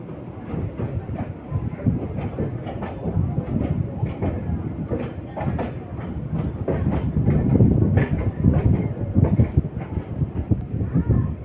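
A MEMU passenger train running between Vijayawada and Bhadrachalam Road, heard from on board after leaving Tadikalapudi station: steady loud rumble with rhythmic clickety-clack of wheels over rail joints throughout, with no talk.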